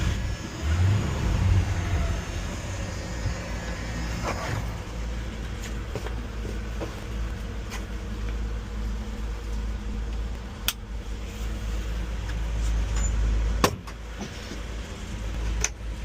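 A 1978 GMC truck engine hums steadily at low pitch for the whole stretch, with a few sharp clicks and knocks over the running motor.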